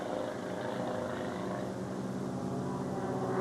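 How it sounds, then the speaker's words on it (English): Propeller racing airplanes roar low and fast past a pylon at an air show, a steady loud droning engine sound heard alone without talk. "here comes Ray Cody low and fast past the home pylon"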